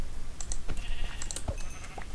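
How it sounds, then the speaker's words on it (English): Sheep bleating in the video game Minecraft, a few short nasal bleats rising over a soft, busy background of game sounds and faint clicking. "I'm also going to go ahead and get these sheep."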